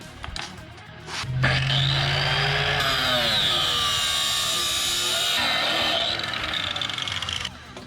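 A power tool cuts through a pit bike exhaust muffler part in a garage, a loud steady whining grind that holds for several seconds before tapering off, with no talking.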